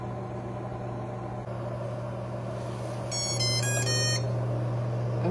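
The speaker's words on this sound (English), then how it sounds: "At the halfway point, it will beep." A food dehydrator drying beef jerky gives a short series of electronic beeps at the halfway point over its steady fan hum.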